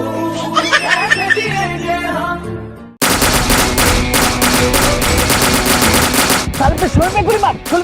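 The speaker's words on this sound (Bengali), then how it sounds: "মাঝখানে গুলি মার।" Rapid machine-gun bursts in a comic border-guard skit follow a brief stretch of music, the loud gunfire rattling on steadily for several seconds in near continuous volleys.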